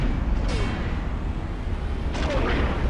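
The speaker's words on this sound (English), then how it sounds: "It just makes the explosion noise" Spaceship explosions during a space battle in the video game Star Wars Galaxies, heard as dense, rumbling booms with two sharper blasts over a constant roar of engine and combat noise.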